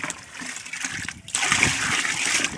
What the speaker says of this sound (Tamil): இப்படி நல்லா தண்ணி ஊற்றி நல்லா கலக்கிட்டுங்க